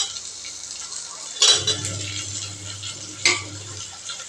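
Green chili, potato and shallots sautéing in a pan, with steady background hiss broken by two sharp clinks of a spoon against the pan; no talking.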